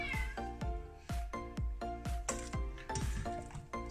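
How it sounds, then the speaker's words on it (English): A cat meows insistently, repeating short rising cries about twice a second, loud and close, with little else around it. "Can you hear the cat?"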